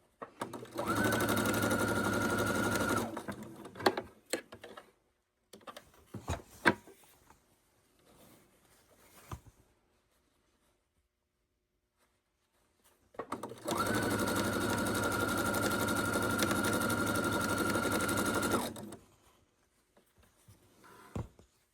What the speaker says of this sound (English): So we save our last final block for the very last block to sew on.